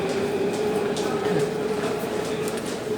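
Paris metro train running through an underground tunnel, a steady loud rumble with a sustained tonal whine and no break.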